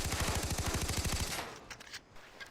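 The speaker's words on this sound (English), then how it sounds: "Next up is the A2000. This is a good submachine gun, to be honest." A2000 submachine gun fired in the game Far Cry 3: a loud, rapid automatic burst of evenly spaced shots lasting just over a second, followed by fading echoes and quiet.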